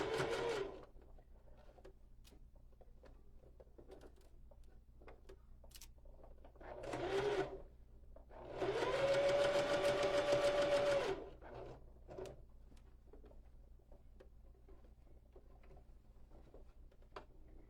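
A sewing machine back stitching over a strap on a water bottle holder runs in three short bursts, a brief one at the start, another near the middle, then a longer steady run of about two seconds, with quiet gaps between.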